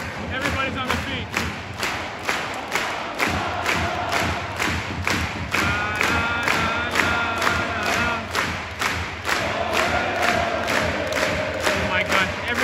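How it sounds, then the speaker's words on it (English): A packed Swedish ice hockey arena crowd in a tense late game claps in steady rhythmic unison, loud and close, with cheering and chanting rising over it and someone speaking now and then. "everybody in the arena is clapping"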